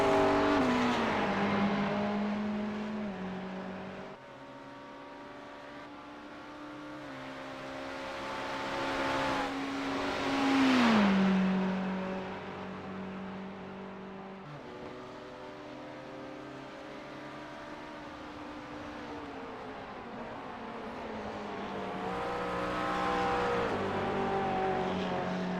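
GT3 race cars at Bathurst in a racing video game, engines droning and rising and falling in pitch as they pass, the engine note climbing and dropping with gear changes, fairly loud and continuous without talk.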